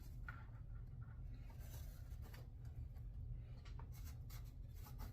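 A pencil traces around a pattern on leather for sandals, making faint, close, intermittent scratching strokes over a steady low hum.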